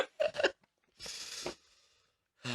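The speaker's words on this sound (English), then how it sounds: "Oh, hiccups." Hiccup-like bursts from a person at a podcast-style recording of friends drinking beer, a quick pair of sharp catches followed by a longer breathy burst, close and fairly loud with pauses between.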